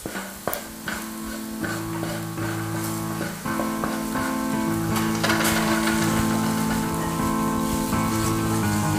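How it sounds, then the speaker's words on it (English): A dark roux being stirred in a pan with heavily caramelized shallots, giving a close, continuous sizzle with scraping stirs, set against a steady humming background. "I'm gonna continue stirring my roux, looking for that nice dark brown color"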